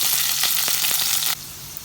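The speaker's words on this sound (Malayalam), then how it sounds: "നമ്മുടെ ഇഞ്ചി വെളുത്തുള്ളി അരിഞ്ഞിട്ട് വെച്ച് കൊടുക്കാം" Chopped ginger and garlic sizzle steadily in hot oil with curry leaves for a curry, a dense close crackle that cuts off sharply near the end, leaving a quieter hiss.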